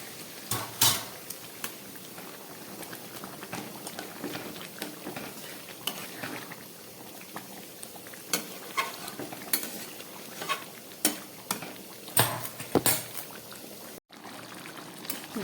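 Chicken curry gravy with added warm water bubbles in a pot under a low simmering hiss, punctuated by repeated sharp clinks and scrapes of a spoon against the metal.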